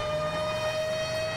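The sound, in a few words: tsunami alert siren in video game GTA 5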